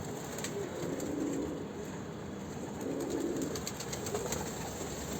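Pigeons coo softly against a steady background hum, with faint, repeated bird calls and no voices.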